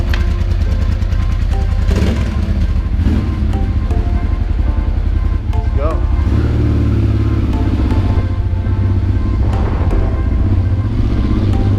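Honda XR motorcycle riding on a road in the Atacama Desert, its engine a loud, steady close drone with dense low rumble and wind noise throughout, no voices.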